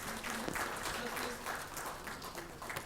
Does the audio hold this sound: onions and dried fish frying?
no